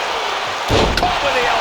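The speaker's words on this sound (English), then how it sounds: "Neck breaker." A neckbreaker wrestling slam in the WWE 2K26 video game lands as one loud, sudden thud with a brief crowd-like roar, following a quieter lead-in and trailing off under game ambience.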